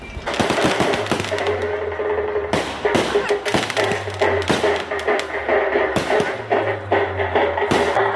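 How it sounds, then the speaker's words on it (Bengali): Fireworks, including homemade ones, bursting at a Holi celebration, sounding as a dense run of sharp cracks and thuds with repeated loud bangs over a constant crackling crowd din, with voices mixed in. "দেখো এই বাজিটা কত সুন্দর ময়ূরের পাখনার মতো খুলে গেল।"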